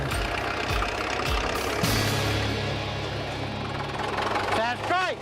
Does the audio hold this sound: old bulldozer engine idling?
yes